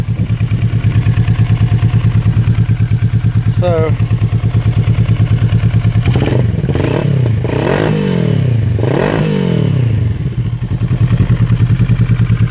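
A warmed-up Kawasaki ER6N motorcycle engine idles steadily and loudly up close with an even, throbbing putter, while someone talks over it partway through.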